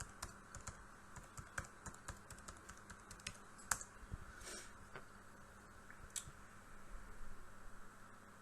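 Password keys tapped on the small keyboard of an HP 2133 netbook, a quiet run of light, irregular clicks close by, with a few sharper taps standing out over a faint background hiss.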